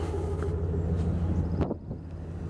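A pickup truck on its factory exhaust idles smoothly at operating temperature, a steady low rumble close to the microphone with light wind noise and no talk.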